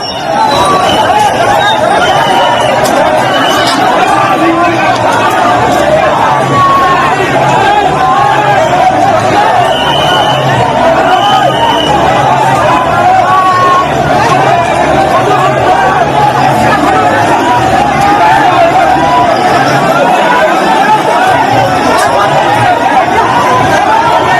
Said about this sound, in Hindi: सावन का सोमवार था, भारी भीड़ थी, और उसके बाद धक्का मुक्की शुरू हो गई यहां